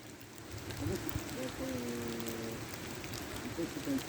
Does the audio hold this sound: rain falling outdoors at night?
yes